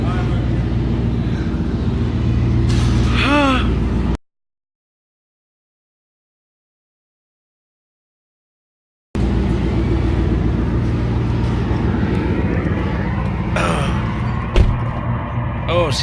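A Ford Mustang GT with SSS Terminators exhaust idles with a deep, steady rumble, close and loud, broken by a long silent gap before the running resumes, with voices and some outdoor noise around it.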